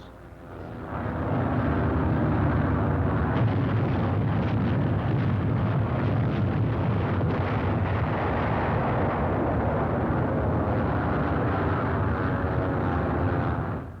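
Bombing of the D-Day invasion area on archival film, a continuous heavy rumbling roar of explosions and aircraft that rises quickly and stays loud and dense before cutting off at the end.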